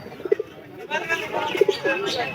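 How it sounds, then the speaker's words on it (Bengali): A pigeon coos in short, low throaty bursts, close by, with brief calls near the start and again later amid a voice talking. "এটা আমার কিন্তু 100 টাকার পায়রা।"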